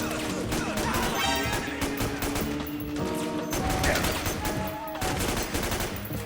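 Suppressed P90 fire in Metal Gear Solid 4 comes as rapid, dense bursts of muffled shots, loud and near, with game music and effects layered through the whole stretch.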